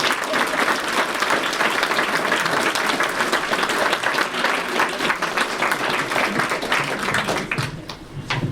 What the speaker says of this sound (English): Please join me in a round of applause for all of our candidates.